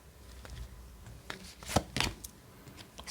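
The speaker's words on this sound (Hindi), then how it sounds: "चलो निकाल लेते हैं पहले कार्ड्स" Tarot cards are shuffled and drawn by hand, soft papery riffles and slaps building to two sharper flutters near the middle, close and fairly quiet, with no voice over them.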